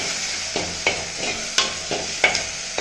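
Ginger sautéing in a pan, a loud steady sizzle broken by regular spoon scrapes and taps against the pan roughly every third of a second.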